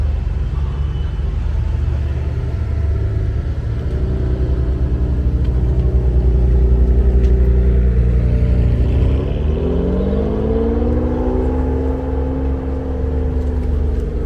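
Red Ferrari engine at a Cars and Coffee meet in Nantes, a loud steady idle rumble that rises into a rev partway through, with no voices heard over it.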